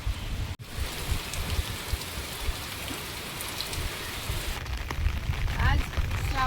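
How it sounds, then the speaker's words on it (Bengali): Heavy monsoon rain pouring down steadily outside a home, a dense continuous hiss and splatter, loud and close, with a brief dropout near the start and faint household sounds toward the end. "আর এখন যে পরিমাণ বৃষ্টি হচ্ছে আমি কোনো দিকে দরজাও খুলতে পারছি।"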